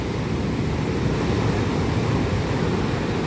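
Rough, stormy sea waves crash nearby in a steady, loud wash of surf noise with no voices.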